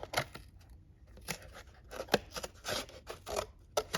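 Scissors snipping material to prepare strands for a bowl loom, a quick series of crisp close cuts in an uneven rhythm, with no talking.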